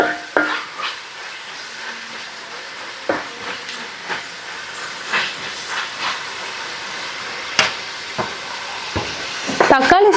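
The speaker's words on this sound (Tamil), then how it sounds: "இப்போ நம்ம தக்காளியை நல்லா குழைவாக வதக்கி விட்டுறலாம்." Chopped tomatoes sautéing in a pan for Tamil-style tomato rice, a steady soft sizzle and hiss with scattered stirring clicks and scrapes of a spoon against the pan throughout.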